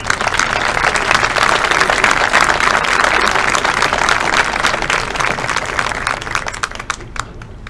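A crowd at a high school football awards banquet applauds the Special Teams Award winners. Loud, dense, sustained clapping lasts several seconds and thins out at the end.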